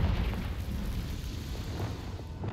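A Confringo blasting spell goes off in Hogwarts Legacy, a loud, rumbling explosive burst that sustains dense low boom through the short moment, close and heavy with no voices.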